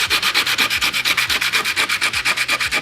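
Rapid back-and-forth sanding of a dirty metal surface on a PC case before applying thermal paste, a steady rhythmic rasping of about eight strokes per second, loud and close with no talking.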